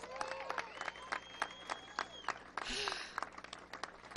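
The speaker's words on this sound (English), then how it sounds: "Please give those chairmen a round of applause." Scattered applause for county chairmen at an election victory event, faint and sparse claps with crowd murmur and a few voices calling out across the room.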